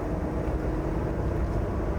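A Land Cruiser VXR 80 fitted with a ZF8HP70 automatic gearbox kicks down, a steady low engine rumble heard from inside the cabin, smooth and continuous with no voices.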